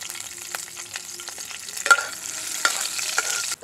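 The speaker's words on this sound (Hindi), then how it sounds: "तेल हमारा गर्म होगा, इसमें मिर्चा का तड़का लगा देते हैं।" Dried red chilies sizzle in hot mustard oil as a tempering for a radish leaf and ridge gourd sabzi, with a steady crackling fry and occasional stirring scrapes, close and without talk.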